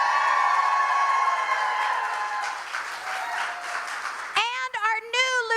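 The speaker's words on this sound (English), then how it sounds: "At this time, we need to put a round of applause for our new governor, Glenn Youngkin." Gala crowd applause for a newly elected governor at a conservative event in Loudoun, Virginia, a dense steady clapping that fades before a speaker's amplified voice comes in at the end.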